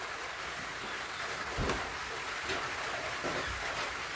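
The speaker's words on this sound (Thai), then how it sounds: "ฝนก็มาแบบนี้ไปพี่น้องเอ้ย" Steady rain patters softly in the background, a continuous wash of drops with a few slightly louder bursts, no voices.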